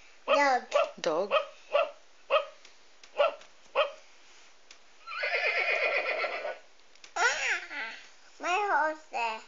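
Horse neighing: a loud, close whinny lasting about a second, coming after a run of quick dog-like barks and followed by further short yelps and vocal bursts.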